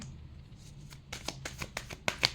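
Tarot cards shuffled by hand, quiet riffling at first, then a run of crisp, sharp card flicks and snaps that grow louder toward the end, close to the microphone with no talking.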